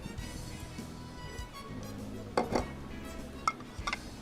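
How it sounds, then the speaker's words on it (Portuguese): Eggs, yolks and sugar being mixed by hand in a bowl, with soft scraping and a few sharp clinks of utensil against the bowl around the middle and end, over a low steady background. "vou pegar aqui num bowl, vou misturar então aqui os ovos, tá, com as gemas e o açúcar"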